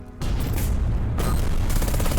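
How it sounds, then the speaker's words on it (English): A mine explodes on a smoke-shrouded hillside in the Burden of Command war video game, a loud sudden blast followed by a sustained rumbling roar and crackling debris, alone. "An explosion shatters the smoke-shrouded hillside ahead."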